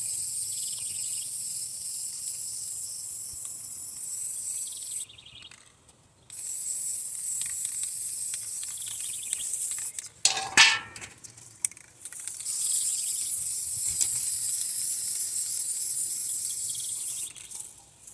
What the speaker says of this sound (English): what I'm going to do is just to start spraying the tray